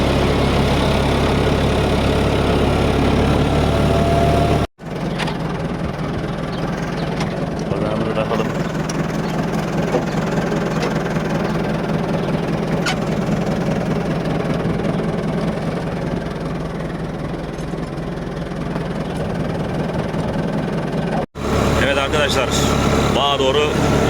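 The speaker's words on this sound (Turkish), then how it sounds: "yola çıktık traktörümüzle." A farm tractor with a cultivator attachment, setting out to work a vineyard, runs at a steady idle with a low, even, close-up rumble that continues throughout, broken only by two brief cuts.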